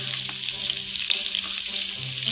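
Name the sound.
water added to chicken frying in a pan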